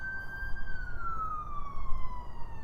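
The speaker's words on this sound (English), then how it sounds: "Well, there's an ambulance." An ambulance siren passes nearby, a steady high wail that slowly drops in pitch as it goes by, over low road rumble.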